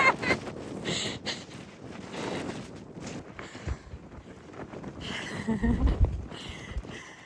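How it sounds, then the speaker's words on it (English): Strong gusting wind on Mount Moosilauke along the Appalachian Trail buffets the microphone in loud, uneven bursts, with whooshing surges rising and falling throughout. "It is so windy. It's like blowing me over."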